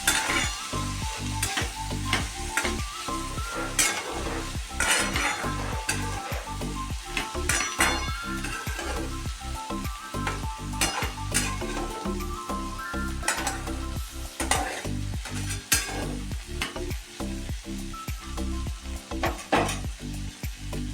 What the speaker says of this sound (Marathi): शेंगदाण्याचं कूट टाकून घ्यायचं आहे बारीक वाटल्यानं छान असं परतून घ्यायचं आहे